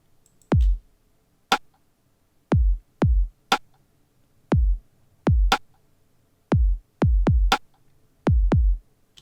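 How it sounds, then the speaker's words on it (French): A sparse drum beat alternating deep kick thumps and sharp snare hits, steady and dry, with no other instruments. "Donc j'ai mis juste une snare et un kick,"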